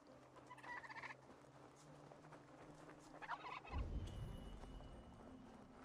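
A turkey gobbling in the video game Assassin's Creed Valhalla, with a faint run of gobbles followed by a heavier thudding, clopping movement near the end, and no talk.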